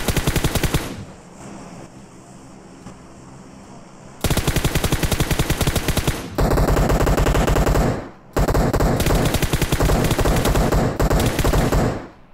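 Gunfire in the battle royale game PUBG, loud rapid automatic bursts of machine-gun fire in long continuous strings separated by brief pauses, close and dominant with no talk over it.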